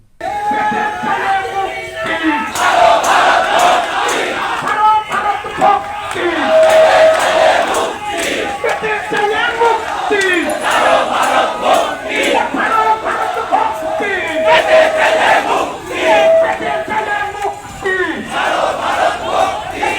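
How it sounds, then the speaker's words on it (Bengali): A large crowd of Dhaka University students chants protest slogans in unison at a rally, loud rhythmic shouted call-and-response phrases repeating over about twenty seconds. "ঢাকা বিশ্ববিদ্যালয়ের শিক্ষার্থীদের বিক্ষোভ সমাবেশ তাদের স্লোগান ছিল এইভাবে"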